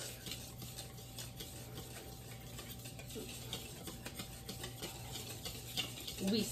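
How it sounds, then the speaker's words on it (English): Cookie batter ingredients being whisked in a bowl make a quiet, rhythmic scraping and swishing with repeated strokes, steady and fairly soft, with a slightly louder clatter at the very end. "Now we're supposed to whisk it all up."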